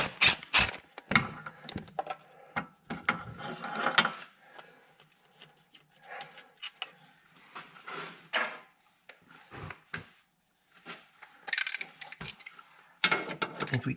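Bursts of mechanical rattling and hammering from an impact wrench loosening bolts on a 2014 Ford Explorer water pump, close and intermittent with short pauses between runs and faint clinks of tools in the gaps.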